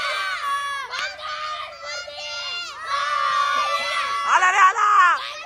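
A crowd of children shouts and cheers loudly together at a Ganpati procession, overlapping high-pitched voices rising and falling in bursts, growing louder toward the end.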